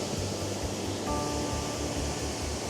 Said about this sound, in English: But I'm just here for the waterfall.